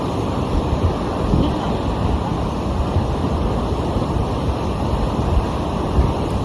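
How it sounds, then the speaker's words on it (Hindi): Steady, dense rush of a fast-flowing river at Mirchaiya Waterfall, loud and close, a continuous broadband roar with no pauses and no voices. "पानी का बहाव जो बहुत तेज हो चुका है यहाँ पे"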